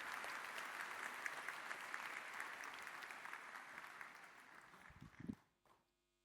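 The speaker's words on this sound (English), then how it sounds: "Give them a round of applause as well for running our badge challenges here" A Kawaiicon conference crowd applauds the badge challenge organisers with a steady, fairly faint wash of clapping that swells briefly near the end and then stops abruptly.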